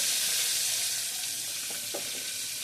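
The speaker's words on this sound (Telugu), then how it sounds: "నూనె కాగింది కదా, దాంట్లో ఉప్పు చేపలు వేసుకోవాలి" Salted fish pieces hiss and sizzle in well-heated oil, a steady, close frying crackle with a couple of faint clinks partway through.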